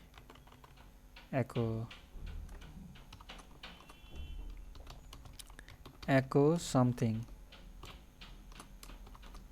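Keys clack on a computer keyboard in two quick bursts of typing, close and fairly crisp, while someone talks quietly about code in between.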